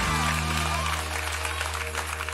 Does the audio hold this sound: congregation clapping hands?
yes